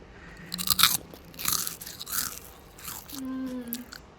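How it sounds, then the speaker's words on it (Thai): Grilled banana, cooked in an air fryer, being bitten and chewed up close, with several soft crunchy bites and chewing noises spread through the stretch and no talking. "ลองชิมให้ท่านผู้ชมดูหน่อยดิว่ารสชาติเป็นยังไง"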